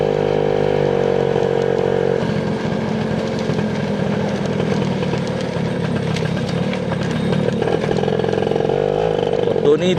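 A 1994 Yamaha Y110SS motorcycle with replaced suspension rides along, its engine droning steadily and loud at close range throughout with a rising note near the end, while someone talks over it.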